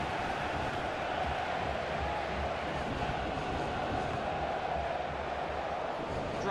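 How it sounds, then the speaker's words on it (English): Steady stadium crowd noise swelling with cheers in a FIFA 15 football match, a continuous broad roar filling the whole stretch with no clear breaks. "And the crowd really enjoying it"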